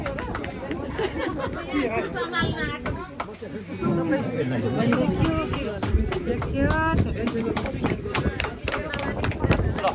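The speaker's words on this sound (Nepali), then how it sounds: "मजाले ताली बजाइदिनु होला।" Audience at a farewell for a judge at a religious gathering in Melbourne, Australia claps in a lively, uneven patter mixed with overlapping chatter and voices close by.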